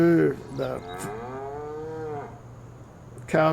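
Cows moo in a barn in a farming video game, with one long drawn-out moo through the middle and shorter calls at the start and end, loud and close, with no talk.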